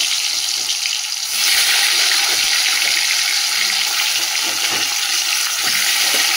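Pumpkin pieces drop into hot oil in a wok and start frying, a loud, close, continuous sizzle that swells after a brief moment and holds steady with faint stirring scrapes, no talking.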